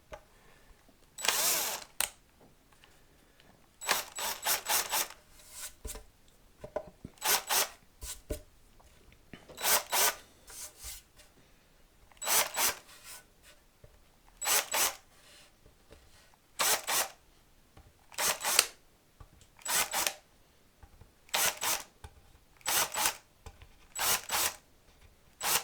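Hand-turned metalworking countersink chamfering holes in a Stratocaster guitar body, brief scraping bursts of cutting repeated about a dozen times with quiet pauses between, close but fairly soft.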